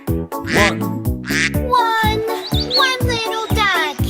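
Within a bright children's song about little ducks, a voice imitates a duck's quack, sung with repeated nasal quacks over a bouncy musical backing.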